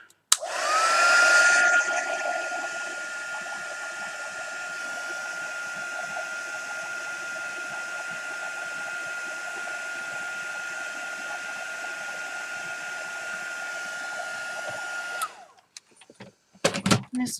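A heat gun blows over wet paint on a canvas, starting with a loud rush and then settling into a steady whirring hum with a high whine before it cuts off near the end.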